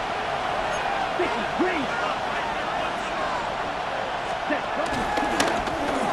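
A virtual stadium crowd roars in a Madden 26 football game between the Panthers and Eagles in snow, a sustained cheering wash building toward third down, with a commentator talking over it.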